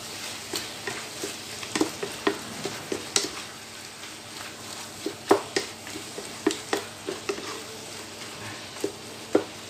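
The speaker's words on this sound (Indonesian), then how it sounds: "Kita diaduk-aduk lagi." Food sizzles steadily in a pan seasoned with Indonesian spices while a utensil stirs it, giving a string of sharp scraping clicks and clacks over the constant frying hiss.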